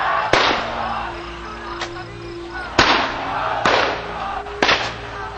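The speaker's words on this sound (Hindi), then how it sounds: "लगातार असलहों से फायरिंग" Gunfire from firearms at a mourning gathering, several sharp reports spaced a second or so apart, loud and echoing over a constant crowd murmur.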